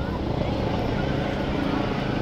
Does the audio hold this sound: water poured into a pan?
no